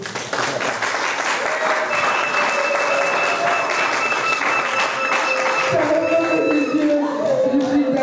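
Applause from a church congregation at a special Sunday service, a dense steady clatter of many hands clapping throughout, loud and close, with a few voices and shouts rising over it toward the end.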